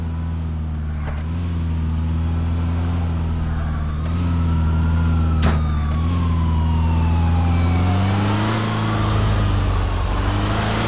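Wailing police sirens sweep up and down over a constant engine drone during a chase in Grand Theft Auto IV, loud and sustained with a few sharp thumps and impacts along the way.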